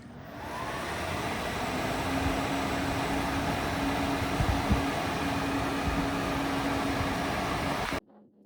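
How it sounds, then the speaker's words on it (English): Blower fans on a rig of three Tesla P100 GPUs, with case fans set to intake, roar as a loud, steady, close airy whoosh that holds evenly and then cuts off abruptly near the end. "It's all intake. I'm planning to make it exhaust through this GPU blowers and maybe a fan here maybe. It's still noisy as ever."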